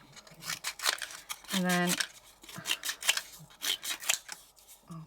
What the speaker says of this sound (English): get some scissors, and I'm just going to cut these up like so